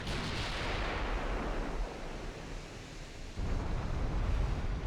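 Warship main guns firing in the naval battle game Ultimate Admiral Dreadnoughts, a heavy rumbling boom that rolls on like distant thunder, then a second deep blast near the end.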